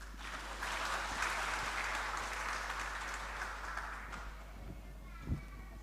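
Applause for the event committee chair at a church ordination service and anniversary celebration, a dense sustained crowd clapping that fades toward the end, with a brief thump near the close.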